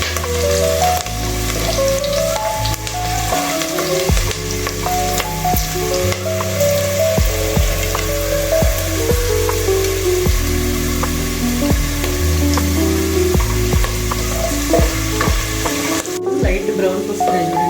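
Onions frying in hot oil for a vegetable biryani, a steady loud sizzle with occasional stirring scrapes, under background music and a brief voice.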